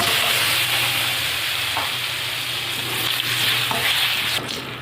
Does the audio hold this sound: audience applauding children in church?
no